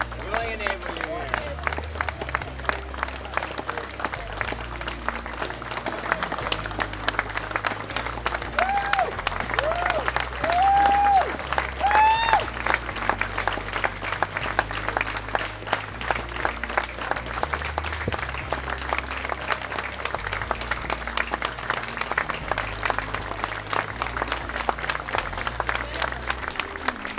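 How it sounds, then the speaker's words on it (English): Steady, sustained applause from an audience at a Bike MS charity ride reception in Mid-Michigan, filling the room continuously with dense clapping and crowd noise, a low music bed or hum underneath and brief whistles. "Let's give this group of people a round of applause for their inspiration and their strength"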